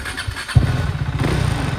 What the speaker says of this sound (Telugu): బండి స్టార్ట్ చేస్తున్నాం కదా